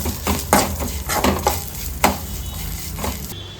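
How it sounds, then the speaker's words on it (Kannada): Whole black pepper, poppy seeds, garlic and ginger stir-fried in a pan for a fish curry masala, giving a light sizzle broken by repeated scraping and stirring clinks, close and steady, with no talk. "1 ಗಡ್ಡೆ ಬೆಳ್ಳುಳ್ಳಿ, 1 ಇಂಚು ಶುಂಠಿಯನ್ನು ಸೇರಿಸ್ಕೊಂಡು ಚೆನ್ನಾಗಿ ಫ್ರೈ ಮಾಡ್ಕೊಳ್ಳೋಣ."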